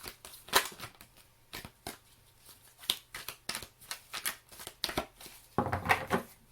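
Tarot cards are shuffled by hand in a series of close, crisp riffles and soft slaps in irregular bursts, with a louder flurry near the end and no talking.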